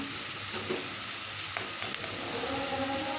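Onions sizzling and frying in a hot pan, a steady crackling hiss with occasional stirring scrapes.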